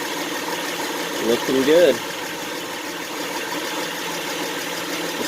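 A 2011 Honda Pilot's 3.5L engine idles steadily and close by just after an oil change, a smooth low hum running throughout while a voice briefly speaks over it.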